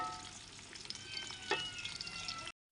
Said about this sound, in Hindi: 3 प्याज हैं दरमियाने साइज़ के, वो भी हमने डाल दिए हैं। इनको ब्राउन कर लेना है।